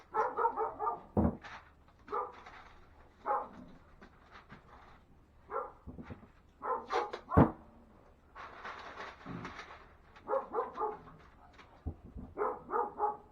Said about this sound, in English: That's somebody's house, so they have a dog.